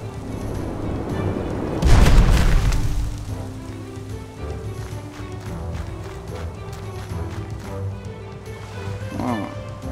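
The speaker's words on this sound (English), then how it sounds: "Here I'm just tossing out a little fire." A fire spell cast in the Magicka video game gives a loud whooshing burst near the start, then a lower rumble of game effects under continuous speech.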